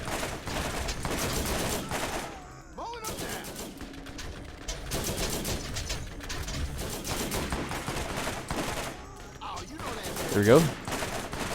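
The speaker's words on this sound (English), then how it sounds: "so I guess we'll use my turret for the first time here." Sustained automatic turret fire aimed at bandits in Borderlands, rattling bursts that run nearly the whole time over game effects, with someone speaking briefly near the end.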